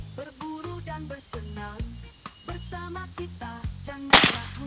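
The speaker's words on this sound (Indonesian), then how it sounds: "Tembakan ke-7 kita coba besi yang paling kanan." Over steady background music, a single sharp Sanca Gear Gen 5 air rifle crack near the end, followed by a brief metallic ring as it hits a steel target.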